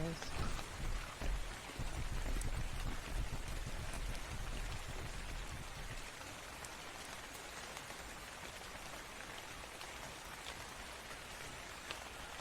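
Rain pours down in the video game Ark: Survival, a dense hissing wash that is heavier at first and then settles into a steadier, quieter shower.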